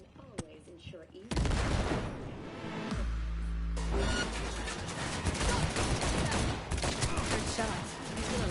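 A heavy, sustained barrage of gunfire fills a Cyberpunk 2077 firefight, loud and dense after a quieter opening with brief voices, and a deep booming layer runs underneath partway through.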